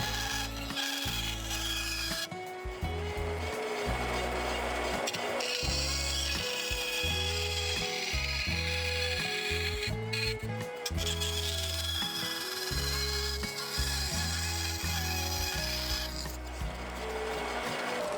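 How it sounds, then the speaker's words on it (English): A bandsaw cuts a wooden sword holder blank along a marked line, its motor hum carrying a steady blade whine with repeated rasping feed passes, close and continuous without talk. "I took it to the bandsaw to cut it as close to the line as possible"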